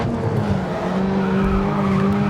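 Car tires squeal through an understeering slide in the racing game Grid Autosport, a steady, loud screech over continuous engine roar lasting a couple of seconds.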